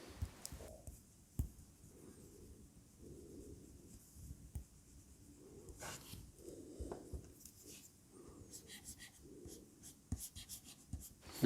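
A LAMY stylus writes on a reMarkable tablet with soft, close, rhythmic scratching strokes and occasional faint taps in an otherwise quiet room.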